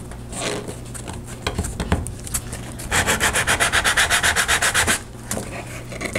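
Sandpaper rubs across a mixed-media collage surface in scattered strokes, then a quick run of rhythmic back-and-forth scrubbing before slowing again.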